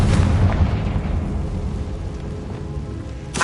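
Confringo blasting spell from the Hogwarts Legacy video game: a loud, dense booming explosion fills the whole stretch and slowly decays, with a fresh burst near the end.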